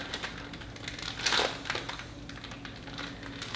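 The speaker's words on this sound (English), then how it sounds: "Squeeze out the air." Soft plastic crinkling and rustling, close up and quiet, with a brief louder crackle midway as air is squeezed out of a zip bag holding brine and green tomatoes.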